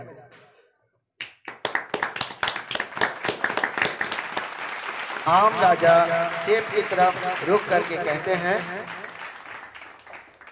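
A crowd of listeners in a staged royal-court drama claps, a run of sharp, close handclaps building into steady applause, while a narrator speaks over the later part.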